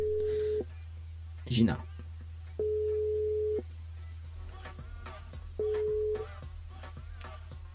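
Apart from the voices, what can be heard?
telephone ringing tone during radio show call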